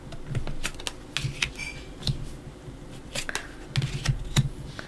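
Tarot cards being handled and opened for a weekly Sagittarius horoscope reading: close, crisp clicks, taps and soft card snaps in an irregular rhythm, with no voices.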